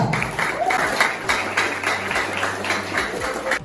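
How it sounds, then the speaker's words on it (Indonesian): A small classroom group at a vocational high school gives a short burst of applause for group 2, with uneven, rhythmic claps close by and some background voices. "Tepuk tangan kepada kelompok 2."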